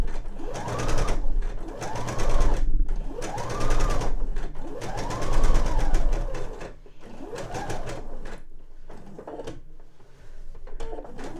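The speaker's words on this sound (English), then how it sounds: "Might have to readjust them a little bit as you sew around the curve," Sewing machine stitching an eye pillow around a curve, running in repeated bursts of rapid mechanical whirring with short pauses between, close and clear, slowing to a few scattered stitches at the end.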